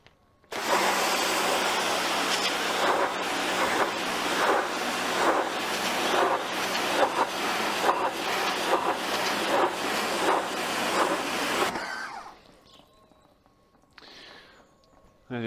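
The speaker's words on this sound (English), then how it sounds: "I'm going to pan this camera back and I'm going to rinse this off." Water from a pressure washer or hose rinses off a car after a TFR pre-wash: a loud, steady hiss of spray that runs for about eleven seconds and then stops abruptly, leaving quiet handling sounds.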